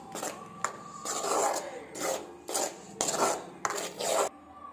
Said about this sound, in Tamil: இதே கை விடாமல் கிண்டிக்கிட்டே இருங்க, அடி பிடிச்சிடாம